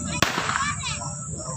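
A firecracker bursts once with a sharp, loud crack, followed by a brief crackling fizz and a steady high ringing tone that continues underneath.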